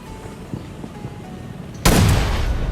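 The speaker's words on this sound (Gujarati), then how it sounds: "બોમ્બ છે" A bomb goes off in a video game: after a quiet stretch with faint clicks, a sudden loud blast erupts and rumbles on, filling the rest of the moment.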